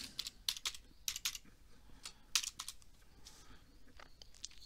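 A MetaMask password goes in on a computer keyboard: quick, close clusters of sharp key clicks in short irregular bursts, with brief pauses between them.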